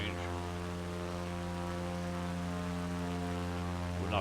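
A propeller airplane engine drones steadily in level flight at cruise altitude, a loud continuous hum with strong even harmonics, shifting slightly in pitch near the end as the engine setting changes.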